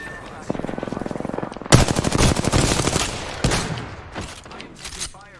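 Rapid automatic gunfire in the video game Apex Legends, a steady burst of quick shots followed by louder, heavier overlapping volleys, with a player speaking during the exchange.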